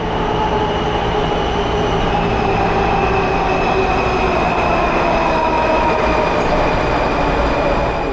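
A Washington metro train on the red line rumbles steadily and loudly nearby, with a continuous droning hum and faint high whine throughout, no voices.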